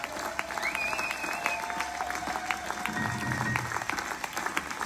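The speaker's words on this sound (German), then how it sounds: "Für die hätte ich gerne einen dicken Applaus" Audience applause at a concert in Braunschweig, a steady wash of clapping from a large crowd that carries on evenly throughout.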